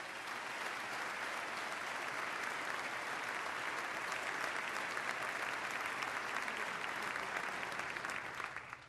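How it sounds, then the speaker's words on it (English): Sustained applause from a large crowd, a dense steady clapping that stays even and strong for the whole stretch. "Let's give the state workers a round of applause for their great work."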